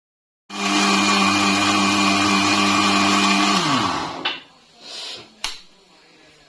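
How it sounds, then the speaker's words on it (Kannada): A mixer grinder whirs loudly and steadily for several seconds, grinding coconut with cardamom, cinnamon, cloves and water into masala, then winds down, followed by a few clunks and rattles of the jar. "ತೆಂಗಿನಕಾಯಿ ಒಂದು ಏಲಕ್ಕಿ ಚಕ್ಕೆ ಮತ್ತು ಲವಂಗನ ಸೇರಿಸ್ಕೊಂಡು ನೀರನ್ನ ಹಾಕಿ ಅದನ್ನು ಚೆನ್ನಾಗಿ ಮಿಕ್ಸಿ ಮಾಡ್ಕೋಬೇಕು"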